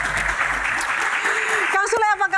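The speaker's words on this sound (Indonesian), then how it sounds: "Tepuk tangan lagi dong." A studio audience claps steadily for most of the moment before a voice cuts in over the fading applause.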